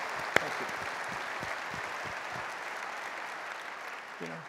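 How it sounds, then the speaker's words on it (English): Audience applause at a large corporate conference general session, steady moderate clapping with a sharp cheer or whoop early on, heard somewhat distantly through the hall. "Can you please join me in a round of applause?"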